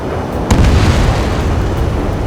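Explosions and gunfire in the jet combat game Ace Combat 7, as guns engage anti-air radar vehicles; a sharp burst near the start gives way to a loud, continuous low rumble of booms throughout.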